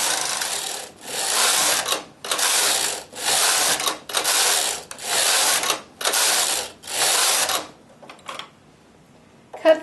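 A knitting machine carriage sweeps back and forth across rows of waste yarn, seven steady rasping passes with brief gaps between, close and clear, fading to a few faint clicks at the end.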